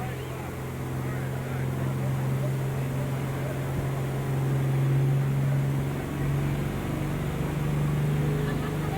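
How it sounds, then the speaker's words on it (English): A distant pro stock pulling tractor engine drones with a steady low hum, rising gradually in loudness as it draws nearer, with faint crowd noise in the background at a tractor pull. "here he comes, that El Nino tractor"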